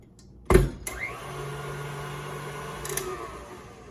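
A stand mixer starts up with a sharp clunk and settles into a steady motor whir while mixing cookie dough, close and moderately loud, running evenly for a few seconds with a faint knock near the end.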